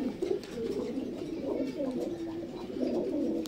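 A breeding pair of jumbo-sized Lahori Siraji fancy pigeons coos steadily and close, the low rolling calls overlapping in an unbroken murmur for several seconds.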